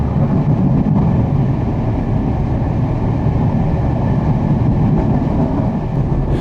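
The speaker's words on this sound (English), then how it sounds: "a Churchwood mogul comes off shed at Gloucester Loco" Churchward mogul steam locomotive coming off shed at Gloucester loco yard, a dense, steady low rumble and chuffing roar throughout, close and loud.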